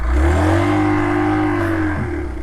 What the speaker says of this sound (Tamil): பார்த்தீங்களா, சைலன்சர் பீட்டு வேறு மாதிரி இருக்குது.